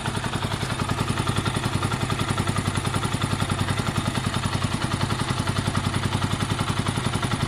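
A Honda CB250 motorcycle engine idles while warming up, giving a loud, steady, close-up throb of evenly spaced rapid pulses that runs unbroken throughout.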